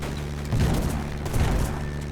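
Forward-facing ship cannons fire in the skypunk RPG Black Skylands, two heavy booming volleys about a second apart over a constant droning engine bed.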